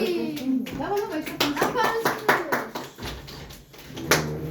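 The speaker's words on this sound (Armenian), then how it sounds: "Դիմավորեք ծափարություններով անգելնա Սոփի։" At a small New Year's celebration, an audience claps to welcome a performer; scattered hand claps mix with a voice and other talking over the top.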